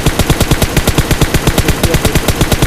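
Rapid automatic gunfire from the PUBG Mobile game plays as one loud, continuous burst of evenly spaced shots throughout, with no pauses.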